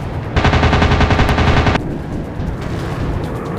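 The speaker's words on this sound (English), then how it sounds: "He's firing at me." Rapid machine gun bursts from a WW2 warplane in a flight combat video game, a loud dense rattle lasting about a second and a half, then fading into a low rumbling engine drone.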